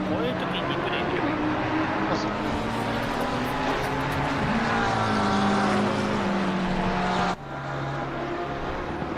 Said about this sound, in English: Oh, that's a Ferrari there.